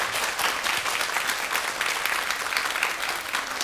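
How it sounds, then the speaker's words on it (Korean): Studio audience clapping for a poet on a morning talk show, a steady dense wash of applause from many hands lasting several seconds with no voices over it. "다시 한번 용혜연 시인에게 감사의 박수를 전해드리고 싶습니다"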